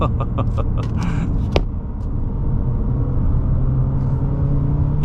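A 2022 Toyota Corolla Cross engine holds a lower gear while climbing a hill, a steady close rumbling drone that swells slightly in loudness, with a few clicks and knocks early on.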